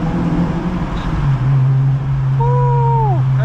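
An 8th gen Honda Civic Si with its check engine light on drives through the rain, its engine a loud, steady low drone heard from inside the car, with a brief falling whistle-like tone near the end.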